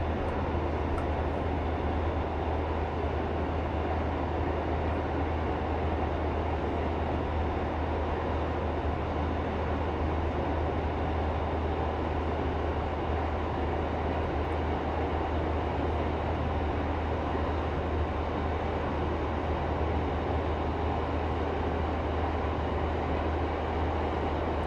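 Simulated rail running of an AP Class 142 Pacer diesel unit between Weston-super-Mare and Bristol in Train Sim 2021, a steady low rumble with constant track roar throughout, no talk.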